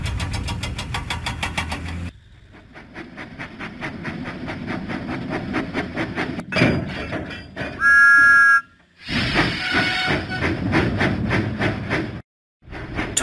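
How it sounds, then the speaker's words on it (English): A cartoon steam locomotive in the Thomas and Friends video game chuffs in a quick, regular rhythm alongside game music. A short bright whistle-like tone sounds partway through, with brief pauses between bursts. "Thomas pumped his pistons and puffed out of the docks"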